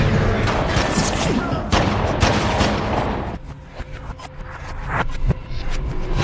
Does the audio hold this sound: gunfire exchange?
yes